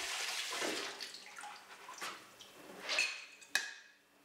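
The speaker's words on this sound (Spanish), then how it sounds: "Luego se enjuagan con agua." Watermelon seeds being rinsed under running water, a soft steady splashing with faint clinks of a container, quiet and close, no talking.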